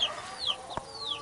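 Chickens cluck and squawk nearby at a coop in hot summer weather, in short, scattered calls, with a brief sharp knock partway through.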